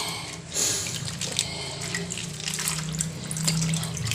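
Tap water running steadily into a kitchen sink while spinach is washed by hand, a close, continuous splashing stream with small shifts in flow.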